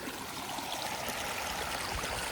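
A stream flows steadily outdoors during a khareef season barbecue in Salalah, a constant close rushing and gurgling wash of water with no talk.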